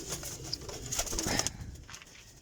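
Young pigeons, a set of squabs being shown for sale, cooing close by, with soft repeated coos and faint wing rustles over a busy background.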